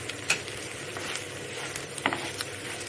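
Chili powder and salt stirred into taro root frying in a pan: faint, steady sizzle with a few light scraping stirs of the spoon.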